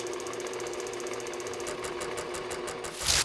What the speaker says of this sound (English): And then I mount it to the lathe and turn it into a piece of art.